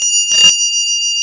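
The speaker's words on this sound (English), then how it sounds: "I got my wife a bell, which has a harp on it" A small decorative bell with a harp design, bought as a pawn-shop tourist piece, is struck once and rings with a bright, clear tone that sustains and slowly fades, close and alone.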